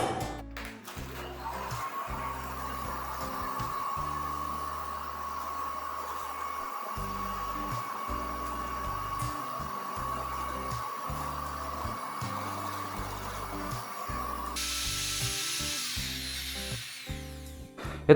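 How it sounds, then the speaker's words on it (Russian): A vacuum cleaner runs steadily and loudly up close, a constant whining drone used to clean dust off a rough cement floor screed before tiling, with no speech over it. "Это просто пылесос."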